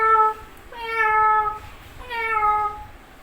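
A person mimics a cat with two drawn-out, nasal meows separated by a short pause, clear and close with no background noise.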